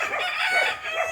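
Hens and a rooster wandering free on a small Filipino farm, clucking and crowing in a busy, continuous flock chorus at close range with no talk over it.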